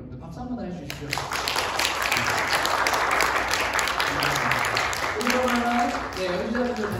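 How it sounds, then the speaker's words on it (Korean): An audience at a concert-talk flute performance claps, a dense continuous wash of applause lasting several seconds, with a voice speaking under and after it. "여러분들 박수 한번 해주십시오"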